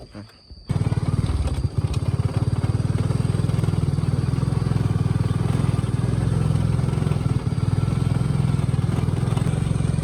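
A motorbike ridden uphill in rural Laos, its engine starting up after a short pause and then droning steadily and loudly nearby, with wind rumble.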